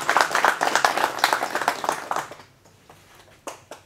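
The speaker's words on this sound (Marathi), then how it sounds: "सर्वांनी जोरदार त्यांचं एकदा टाळ्या वाजवून स्वागत करावं." An audience at an indoor talk-show event applauds to welcome a BJP leader, with loud, dense clapping for about two seconds that quickly thins out, followed by a few scattered late claps.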